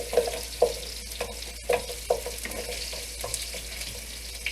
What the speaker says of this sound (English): Saute these carrots